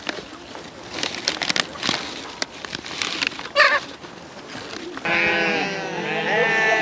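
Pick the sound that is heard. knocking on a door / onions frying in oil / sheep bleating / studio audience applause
sheep bleating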